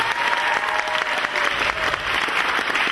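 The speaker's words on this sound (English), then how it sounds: "Give her a round of applause" A theatre audience claps for a female volunteer, Carol, called up on stage at a magic show, a dense and lively round of applause that stays steady and loud for about three seconds.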